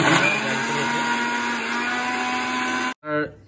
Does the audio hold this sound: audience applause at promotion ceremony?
no